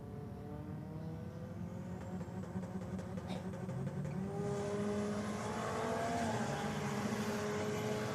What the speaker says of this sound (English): Fairlane just absolutely smokes the tyres off the line